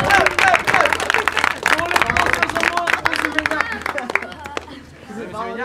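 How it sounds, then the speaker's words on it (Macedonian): A meetup audience in Prilep bursts into loud, sustained applause, dense clapping mixed with cheers and crowd voices that gradually thin out toward the end. "Онли Петар, да слушнем аплауз гласен."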